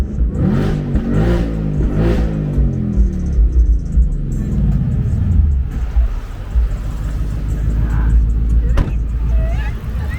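A supercharged S650 or Porsche 911 Turbo S engine revving hard in repeated loud surges with deep rumble and a rising whine, close by and steady throughout, with voices under the engine noise.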